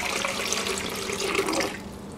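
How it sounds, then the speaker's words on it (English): Water pours into a blender jar for a strawberry smoothie, a steady close splashing stream that runs for under two seconds and then eases off. "we're going to add some water."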